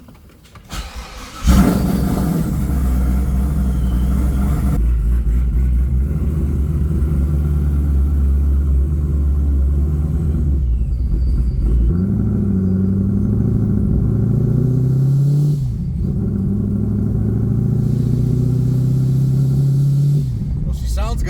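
Chevrolet Corvette C7 on its first drive, untuned, its engine starting with a sharp burst and then settling into a loud, steady close rumble that rises and shifts in pitch as it pulls away.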